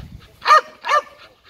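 A miniature Bull Terrier barks twice in quick succession during protection work, close and loud, followed by fainter trailing sounds.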